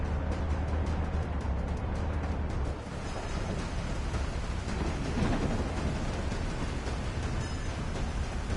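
Rain and thunder in the Truck Driver video game: a dense, steady hiss of rainfall with a low rumble of thunder, loudest at the start and fading around the third second, with no voices.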